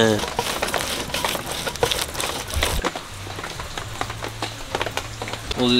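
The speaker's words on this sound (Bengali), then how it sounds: "খুব বৃষ্টি হচ্ছে।" Dense, steady rain patters and crackles across the whole stretch, with faint talk underneath.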